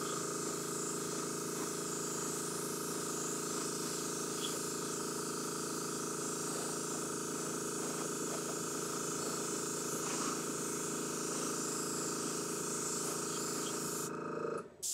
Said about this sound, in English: Very light mists, about 5-6 inches away, 4-6 inches away, and you're just gonna hit the areas lightly.